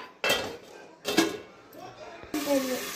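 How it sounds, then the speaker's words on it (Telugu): Curry leaves crackle in hot oil inside a lid-covered pan, with a few sharp, sudden bursts of popping and spattering separated by quieter gaps, close and fairly loud, ending in a denser sizzle. "కరివేపాకు అట్లనే అంటుంది, పట్ పట్ పట్ పట్ పట్ పట్ అంటుంది"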